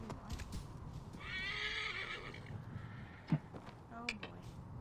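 A horse whinnies in Assassin's Creed Origins, a long wavering neigh in the middle, with faint hoof thuds and a voice talking over the game's wind-swept background.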